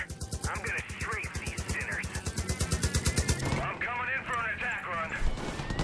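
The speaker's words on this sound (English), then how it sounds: "I'm gonna strafe these sinners. I'm coming in for an attack run." Rapid machine gun fire from an aircraft strafing enemies in Far Cry 5, a fast steady burst of close, loud shots that breaks off partway, followed by clattering impacts and a voice speaking.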